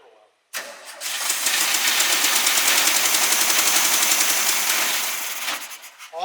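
A SpraCoupe engine being fitted to a 1961 VW bus cranks and then runs as one loud, continuous, steady rumble for about five seconds, close by.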